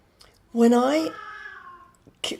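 A cat's drawn-out meow, close by and clear, rising then trailing off, followed by a short faint sound at the end.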